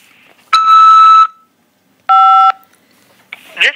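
Two loud electronic tones from an automated prison phone system, one long and one shorter, ring out alone before a call from a corrections facility is accepted.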